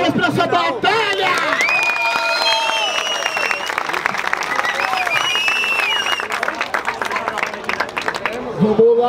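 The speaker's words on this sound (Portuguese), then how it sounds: "Palmas pra essa batalha!" A crowd at a rap battle semifinal claps and cheers loudly and steadily, with whistles and shouting voices mixed into the sustained applause.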